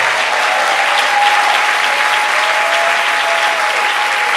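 A church congregation applauds loudly and steadily, a dense, close wash of many hands clapping at once that carries on without a break.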